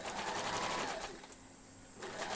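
A sewing machine stitching a woollen jumper's knit, its fast, even mechanical whirr running close and loud, easing briefly before picking up again.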